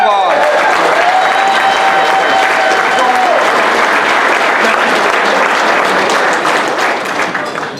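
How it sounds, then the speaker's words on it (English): Applause from a labor awards dinner crowd fills the room, loud and sustained, with a voice briefly speaking over the clapping at the start before it tapers slightly near the end. "Everybody, give yourselves a big round of applause."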